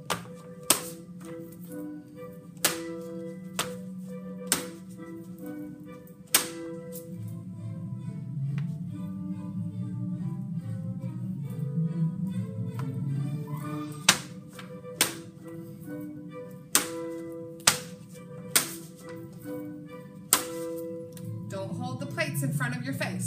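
First graders tap paper plates held like crab claws in steady, evenly spaced sharp taps, a dozen or so crisp hits during a music class march practice, with a teacher talking between them.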